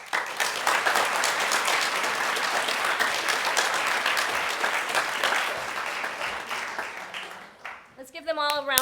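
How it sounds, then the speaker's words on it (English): Audience applause at an elementary school graduation fills the room as a dense, steady wash of clapping for about seven seconds, then thins out as a voice begins speaking near the end. "Let's give them all a round of applause."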